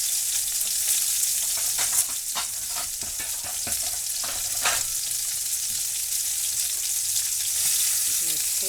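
Freeze-dried pork chops browning in a frying pan give a steady, close sizzle and crackle, with scattered sharper pops and spatters throughout and no one talking.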